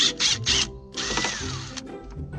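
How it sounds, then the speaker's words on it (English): Power drill backing a screw out of a toy tractor, a few short whirring bursts of a small motor followed by a longer steady spin with rising pitch, close and moderately loud. "Now we're going to drill it."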